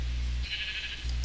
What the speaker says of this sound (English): Lots of sheep.